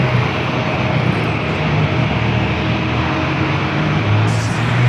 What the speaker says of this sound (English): followed by Delta flight 894 heading to Atlanta on the